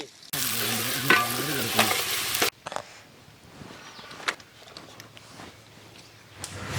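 Chopped onion and curry leaves hit hot oil in a pan with a loud burst of sizzling. The burst then drops to a quieter crackle with a few scattered clinks and stirring knocks.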